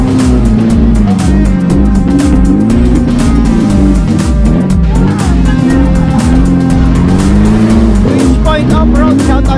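Off-road 4x4 vehicles race around a tough dirt course at a 4x4 challenge held for a town's 75th founding anniversary in Maria Aurora; a close, loud engine roars continuously, its pitch rising and falling as the driver revs through the run.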